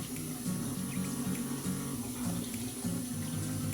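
Tap water runs steadily into a bathroom sink, a constant close rushing stream with no speech.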